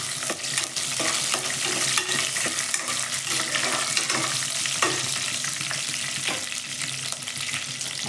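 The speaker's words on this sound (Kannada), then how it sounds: "ಪಟ ಅನ್ಸತ್ತೆ ಕರಿಬೇವು ಹಾಕ್ಬೇಕು." Curry leaves crackle and sizzle in hot oil for a yogurt sambar, a steady dense hiss with scattered pops and a few stirring scrapes. It is close and continuous with no talking.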